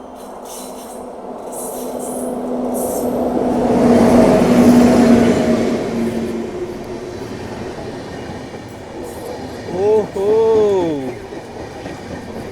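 The Bhubaneswar–Pune superfast train passes, its rumble swelling to a loud peak and fading, with a steady tonal hum and then a few rising-and-falling horn blasts near the end.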